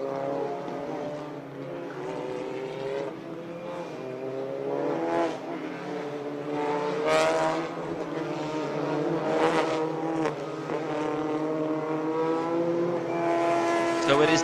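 TCR Eastern Europe touring cars running the formation lap at the Hungaroring, a steady droning engine chorus with shifting pitch as cars pass, with a commentator talking over it throughout.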